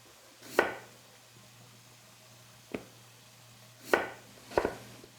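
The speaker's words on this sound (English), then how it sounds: "I'm just going to cut this potato." Knife chopping a potato into chunks on a cutting board: four separate sharp cuts, each striking the board with a crisp thud, spaced irregularly with quiet pauses between, close and fairly loud.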